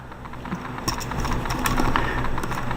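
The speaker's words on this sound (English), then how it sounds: "This piece will flip out, and then it will allow you to fold this up and peg it in." Plastic parts of a transforming robot figure are flipped, folded and pegged into place by hand. Quick, close, clicky taps and snaps run over a low background hum.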